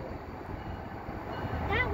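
A railroad train led by three locomotives rolls past with a steady, heavy low rumble and a faint wheel squeal near the end, heard from beside the track.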